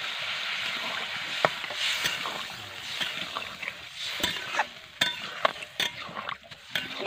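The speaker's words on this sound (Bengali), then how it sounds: "দেখো একদম ভাজা হয়ে যাচ্ছে, লেগে যাচ্ছে মশলা" Spices frying and catching on the bottom of a pan during home cooking, a soft continuous sizzle with scattered scraping and clinking as a utensil stirs.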